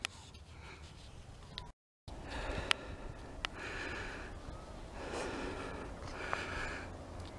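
A man breathes heavily near the microphone after walking up a steep slope by a creek at a gold-digging site, with repeated loud puffing and panting breaths and sniffs over outdoor background noise.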